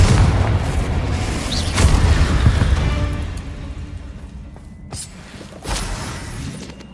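Blasting-spell explosions in the Hogwarts Legacy video game: deep booming bursts with a loud blast near the start, another around the middle and a sharp hit near the end, over a rumbling game-combat background with no talk.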